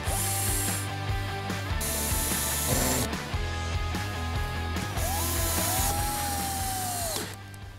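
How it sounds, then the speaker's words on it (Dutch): A power drill or ratchet tool fastens parts of a wooden ladder frame for an outdoor kitchen, giving several short whirring bursts over steady background music. "Nu ga ik mijn volgende ladder in elkaar zetten."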